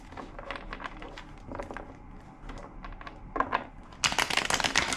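A deck of tarot cards is shuffled by hand in short riffling bursts separated by pauses, ending with a louder, brighter flurry of card flicks, close and crisp.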